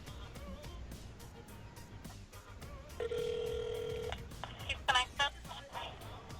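Touch-tone dialing and ringing of a phone number being called from a podcast setup, with a sustained tone and short beeps heard under background chatter and room noise.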